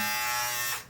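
A Ufree all-in-one beard trimmer and hair clipper running, a close, steady electric buzz that holds for under a second before trailing off, with no talk.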